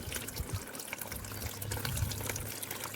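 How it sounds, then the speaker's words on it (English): Water poured off the top of a clay-and-water mixture through a splatter screen, a steady close-up splashing trickle with gurgles, running continuously and alone. "I'm just going to start pouring just the top of that water out."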